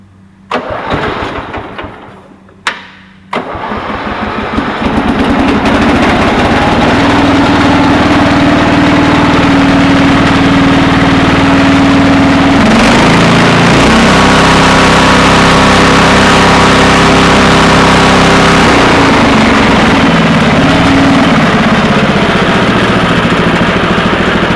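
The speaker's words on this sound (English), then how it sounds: "I'm just going to go ahead and start it up and let you guys hear it run." A Cub Cadet 482 garden tractor engine cranks in short bursts, catches and settles into a loud, steady idle, its pitch dipping briefly at a couple of points before evening out again.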